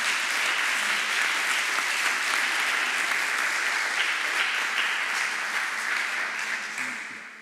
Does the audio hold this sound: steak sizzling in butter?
no